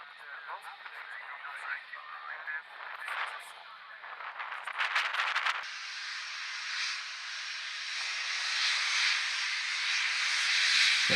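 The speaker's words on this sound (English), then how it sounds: "Here's our friends from Lufthansa coming in from Frankfurt. Airbus A319er, 100 series." A Lufthansa Airbus A319-100 arriving from Frankfurt at Manchester Airport: a broad jet roar swells and holds steady as it nears, following a stretch of crackly radio-style chatter.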